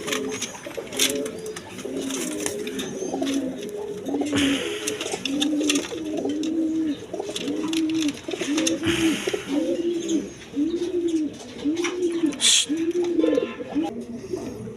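Gorra pigeons at a pigeon farm coo steadily and repeatedly, close by, with soft rhythmic calls continuing throughout over background noise.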